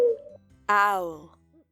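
An owl gives a short low note, then a longer, rich hoot that holds steady and slowly fades, heard alone and fairly clear.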